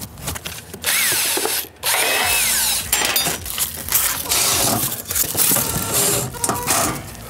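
A power drill whirs in repeated bursts of varying speed, close up, attaching a handle to a portable table, with clicks and handling noise between runs.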